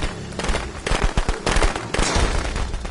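Rapid crackling bursts of firecrackers going off in a Friday the 13th video game, quick irregular volleys, loud and sharp, layered with a noisy backdrop.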